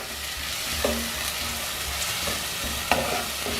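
Masala being sautéed in a pan for butter beans gravy, a continuous sizzle and fry with a few soft scrapes of stirring, close and steady.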